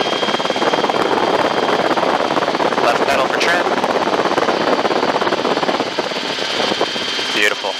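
Helicopter in flight on a low approach, heard from inside the cockpit as a steady, loud rotor and engine roar with a thin high whine, while a voice speaks over it.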